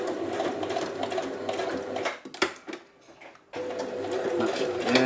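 Sewing machine stitching fabric for a bra pattern, a steady fast mechanical whir that runs, pauses briefly near the middle, then resumes at full speed, close and loud with no talking.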